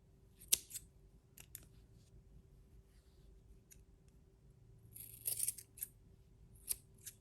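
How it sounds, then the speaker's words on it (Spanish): Scissors cutting yarn strands to even length for a crocheted tassel, heard as a few sharp, close snips scattered over a quiet background, with a small cluster of cuts near the end and no talk. "De esta forma vamos a ir cortando."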